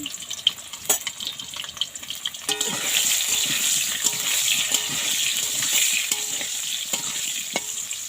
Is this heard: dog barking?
no